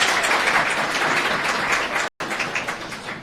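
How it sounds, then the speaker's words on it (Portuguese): A church congregation gives a steady round of applause, dense and continuous clapping that fills the room, briefly cut to silence near the end before resuming. "Uma salva de palmas para Jesus aí"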